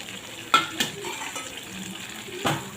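Eggs are stirred into frying masala in a pan, a steady sizzle broken by a few sharp spatula scrapes and knocks against the pan, close and clear.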